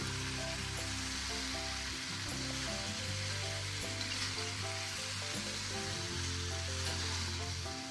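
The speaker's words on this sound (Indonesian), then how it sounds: "Kita aduk agar bumbunya merata dengan cekernya." Boiled chicken feet fry with spices in a pan, a loud, constant sizzle close up, with occasional scraping stirs layered over the steady crackle.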